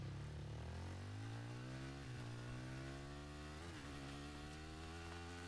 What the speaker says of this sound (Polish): Dobra, jest ten motor.